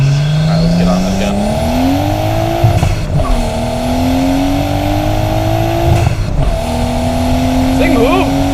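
A Nissan R33 Skyline accelerates hard, its loud, close engine note climbing through the revs with two brief breaks at the gear shifts before it pulls again.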